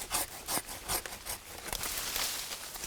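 A mandarin tree branch being cut during pruning, a rhythmic series of rasping saw-like strokes, close and fairly loud, about eight or nine pulls before a steadier rubbing finish, no talk.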